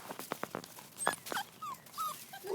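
A puppy stuck in a fence whimpers close by, giving several short yelps and thin rising whines spaced irregularly through the clip.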